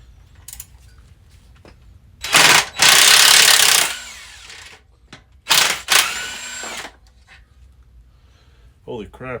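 A power tool spins an engine bolt loose during a Honda engine removal: two loud close bursts of whirring and rattling, separated by quieter gaps with voices and mechanical clicks.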